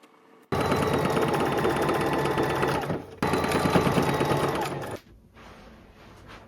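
A sewing machine stitches a skirt in two loud, close bursts of rapid rattling, the first about two and a half seconds long, the second about two seconds after a brief pause, then stops.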